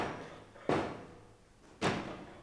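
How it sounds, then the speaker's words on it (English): Two sharp hammer-like blows, heavy and resonant, sound as a coffin-shaped box is nailed shut in an old-time radio drama of Dracula, spaced about a second apart with a dim room tone between them. "The last box being nailed down."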